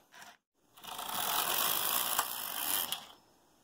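Brother 8-button knitting machine carriage sliding across plain rows, a continuous mechanical whirring rattle with ratchet-like clicks, close and steady for about three seconds after a brief knock.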